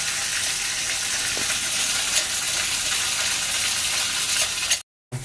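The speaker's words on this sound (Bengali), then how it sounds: "পাতাটাকে এবার শুকনো শুকনো করে কষে নেবে" Kharkol leaves dry-frying in a pan give a steady, close sizzle with faint scraping, running evenly and without talk before a short drop to silence near the end.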